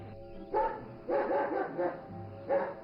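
Dogs guarding a farm compound barking in several loud bursts, a short bark then longer clusters of barks spaced across the moment, with a low hum underneath.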